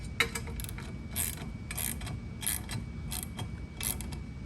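A ratchet tightening a bolt on a Can-Am Spyder RT motorcycle mounting bracket gives off short bursts of metallic clicking in quick strokes, close up over a low background rumble.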